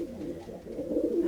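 Rescued pigeons cooing in a foster aviary, a low, steady murmur of overlapping coos that swells slightly toward the end, no voices.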